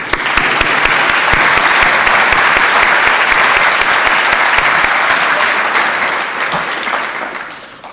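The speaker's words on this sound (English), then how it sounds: "Let's give them a round of applause." Applause from the audience at a high school honors convocation, a loud, dense, continuous wash of clapping that stays steady for several seconds and then gradually fades toward the end.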